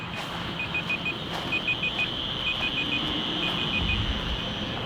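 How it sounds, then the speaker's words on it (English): A timer beeps while RV holding tanks are being flushed, sounding in repeated groups of short, bright beeps over a steady hiss of running water. "I like to let the timer keep on beeping until I actually stop it."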